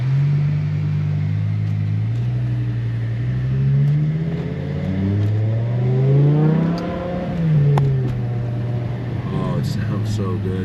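A BMW M6 with the S85 V10 engine and SMG gearbox accelerates, its rising engine note climbing through gears with a near, loud, swelling roar and pitch drops at each shift.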